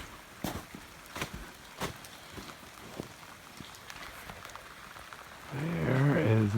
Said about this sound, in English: because it's raining on the cap, but not smoky